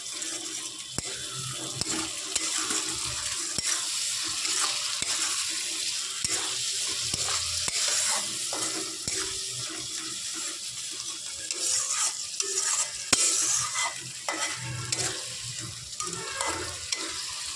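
Spice paste is stirred with onions in a hot pan for Bengali rupchanda fish, a continuous sizzle with scraping spoon strokes repeating throughout, close and steady.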